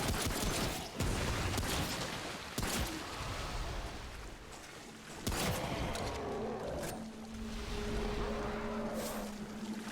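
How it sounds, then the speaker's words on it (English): Root rot gas bursts out in Remnant: From the Ashes with heavy, booming game explosions, several sharp blasts over a continuous roar of rumbling noise. "so the explosion is the root rot"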